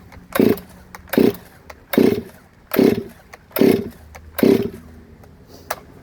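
A Stihl chainsaw is pull-started outdoors in icy cold weather, six loud rhythmic cranking surges at about two-thirds-second intervals, each a sputtering pull that never catches into a running engine.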